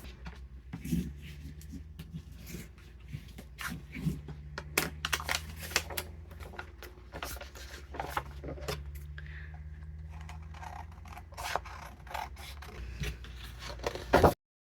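Scissors snip and slide through paper and photo ephemera in repeated short cuts with soft rustling between them, quiet and close. A sharp louder snip comes near the end.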